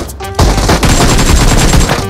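Gunfire in the BGMI mobile battle game crackles as a dense, loud burst of rapid shots, continuous over about two seconds after a brief lead-in.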